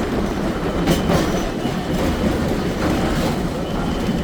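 Streetcar rolling on rails across the High Level Bridge in Edmonton, Alberta, a steady loud rumble with rhythmic wheel clacks heard from on board, continuous throughout.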